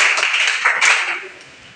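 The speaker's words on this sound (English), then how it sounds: "Okay, clap for yourselves." Audience members clap for themselves at the close of an IEP Ambassador Challenge presentation, a short burst of dense applause that swells briefly near the middle and then fades.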